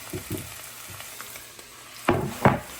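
Diced ham tossed into a hot pan: a steady sizzle of frying under several sharp clatters and scrapes as the pieces are dropped in and stirred, louder bursts near the end, no talking.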